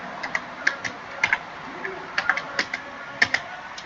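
Python code is typed on a computer keyboard as a run of irregular, crisp key clicks, some in quick pairs and others spaced out, close and fairly quiet over a soft room hum.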